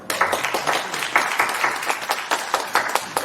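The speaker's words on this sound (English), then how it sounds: "So let's give her another round of applause." Audience applause for a poet, the Mobile Poet Laureate, at an evening poetry festival: steady, dense clapping from a crowd that carries on for several seconds with small swells.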